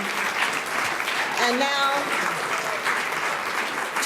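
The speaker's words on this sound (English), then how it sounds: "I would like to have one more round of applause" A crowd at a tennis hall of fame ceremony claps steadily throughout, a warm wash of applause with a voice speaking briefly over it.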